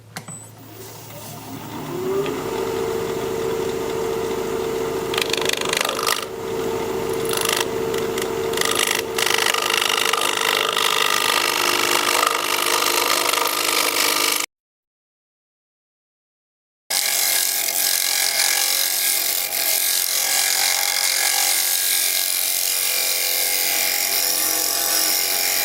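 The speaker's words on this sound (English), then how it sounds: "So I'm gonna put a fresh edge on my scraper and scrape." A scraper works a spalted, bark-on wooden bowl spinning on a lathe, giving a steady hum with a rough rasping scrape that cuts out briefly into silence, then resumes.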